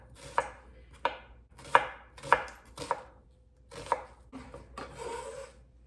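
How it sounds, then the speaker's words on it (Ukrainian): A knife cuts an onion into half-rings on a board: about seven separate crisp chops in a slow, uneven rhythm, close and clear with no talking. "І півкільцями цибульку наріжемо"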